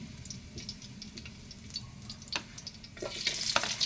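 Red onion sautéing in a pan after fish sauce has browned, a soft, low sizzle with scattered light crackles and stirring clicks that swells louder near the end.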